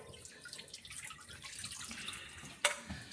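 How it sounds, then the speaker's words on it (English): Rice being rinsed in water at a kitchen sink, a soft steady wash of trickling water with one brief sharp clink near the end, fairly faint and with no voices. "Right now Sinead is Rinsing rice."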